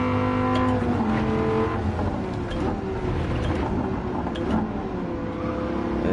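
Race car engines roar and drone steadily in Gran Turismo 7 as cars pass a slower Tesla, with layered engine tones shifting pitch under constant loud noise.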